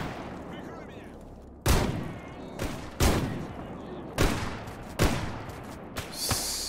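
Sharp gunshots in the video game S.T.A.L.K.E.R. GAMMA, fired as single loud cracks about once a second, each followed by a ringing tail, with a voice faintly present.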